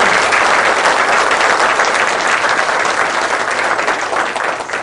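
A lecture audience at a public humanities talk held at Changwon court gives dense, loud, steady applause that fills the whole stretch without a pause.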